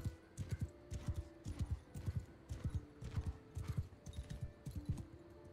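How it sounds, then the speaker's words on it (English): Horses' hooves clip-clop in steady, overlapping rhythms in the video game Bannerlord, several animals moving together at close range, loud and alone with no talk. "Well, these horses do not move well."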